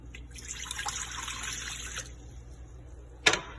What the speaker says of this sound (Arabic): بنضيف الماء